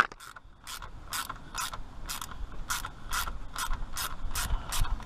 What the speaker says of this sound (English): I gotta undo that clamp first